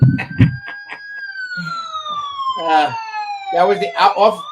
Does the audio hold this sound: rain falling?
no